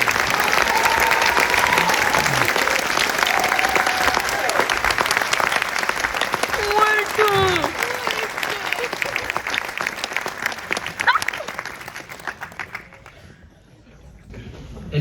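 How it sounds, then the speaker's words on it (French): Audience at a film screening applauds loudly and steadily for a cast member, a dense sustained clapping with voices and whoops mixed in, tapering off toward the end. "Merci d'applaudir bien fort s'il vous plaît"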